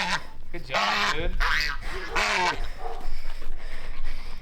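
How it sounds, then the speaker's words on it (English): Geese, including a young one, give repeated honks and quacks in short bursts, mixed with people talking nearby and outdoor background noise. "See, it's all quacking."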